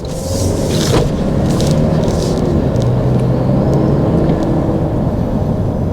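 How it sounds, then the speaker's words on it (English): A 2024 Toyota Land Cruiser 1958 with a 4-cylinder turbo engine drones steadily while driving, with a faint rising whistle of turbo spool and road noise throughout, close and continuous without talk. "You can hear the turbo spool up pretty often though"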